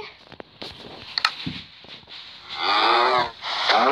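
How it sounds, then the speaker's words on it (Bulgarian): Cows moo in a survival video game: a few soft clicks and steps come first, then two long, loud, drawn-out moos fill the second half. "Малко крави."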